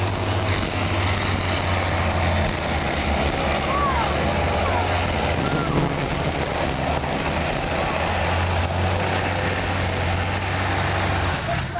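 A pulling tractor powered by twin Allison aircraft engines starts up at an Austin truck and tractor pulling competition, a loud, steady engine roar with a deep low hum that holds for the whole stretch amid outdoor crowd noise.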